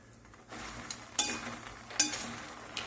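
Roasted makhana being stirred with salt in a pan for a chivda snack, heard as soft scraping and stirring strokes with a few clinks of the spoon against the metal, quiet and close.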